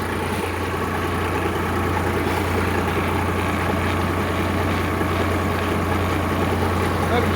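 A tractor engine runs steadily at 1100 rpm on a farm, a loud, continuous close-up drone with a strong low hum and no break.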